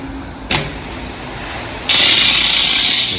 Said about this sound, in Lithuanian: apsiplausim putom